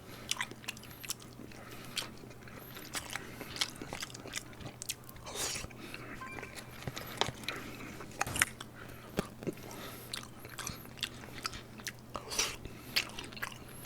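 Radish kimchi being chewed close to the mic, with irregular crisp crunches and wet bites repeating steadily over about fourteen seconds, plus a few faint murmurs between mouthfuls.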